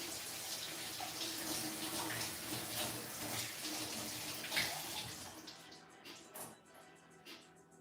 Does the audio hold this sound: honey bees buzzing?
no